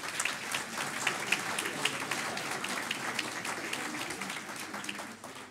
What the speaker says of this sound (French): vous les applaudissiez